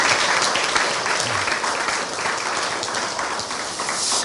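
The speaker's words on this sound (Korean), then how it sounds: "격려의 박수, 감사의 박수 드리겠습니다." Warm, sustained applause from an audience fills a university chapel service in thanks to the student choir, a dense wash of many hands clapping together that fades slightly toward the end.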